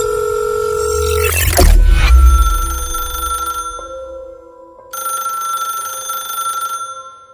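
A telephone rings repeatedly and goes unanswered: a steady electronic ring, loud and close, with a dull thump early on and a short pause midway before the ringing resumes. No one speaks.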